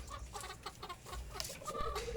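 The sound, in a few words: chickens clucking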